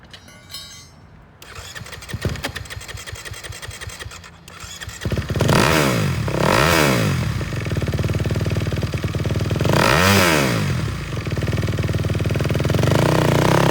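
A used 2021 Kawasaki KX250 MX dirt racing motorcycle cranks and catches, then runs loudly up close. Its engine snaps through several sharp revving climbs and falls between stretches of rough, high idle.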